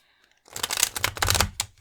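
Tarot cards being shuffled by hand for a pick-a-card reading, a fairly close, busy run of papery riffling and slapping that starts after a quiet half-second and carries on steadily for over a second before tapering off.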